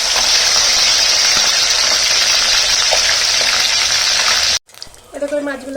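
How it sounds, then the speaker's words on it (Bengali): Fish fries in hot oil in a kadai with a loud, close, continuous hiss that stops suddenly, followed by quieter clattering and a brief muffled voice. "এবার আমি মাছগুলোকে উল্টে দেবো। এক পিঠ আমার ভাজা হয়ে গেছে।"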